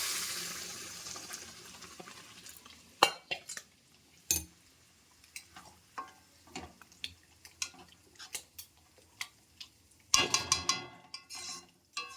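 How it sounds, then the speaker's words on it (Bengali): Boiled dal tipped into a frying pan in a home kitchen, heard as a run of sharp clinks and scrapes of a utensil against metal with a soft wet pour and faint sizzle, close and without talk. "এর মধ্যে দিয়ে দেবো এই ডালটা, সিদ্ধ করে রাখা ডাল।"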